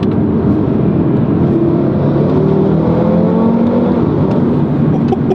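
An Audi five-cylinder engine revs hard under acceleration, a loud continuous rising drone with a gritty growl that holds steady and close throughout, with no talking.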